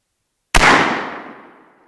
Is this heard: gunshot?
yes